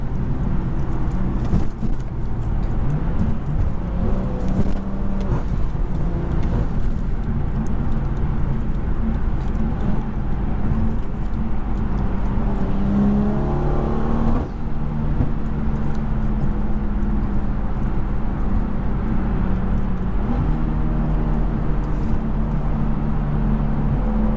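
BMW F30 sedans hurtle past in heavy traffic, and their loud, continuous engine and road roar swells and sweeps as the cars pass close by.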